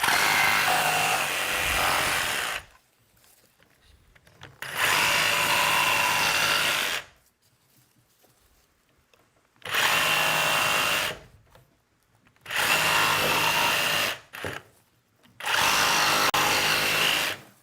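A router at a router station cuts PVC in five loud, sustained bursts of high whining roar, each lasting a couple of seconds and separated by near silence.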